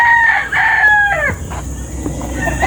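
Boston Roundhead gamefowl rooster delivering one loud, close crow with a rising then falling drawn-out call, followed by quieter background noise.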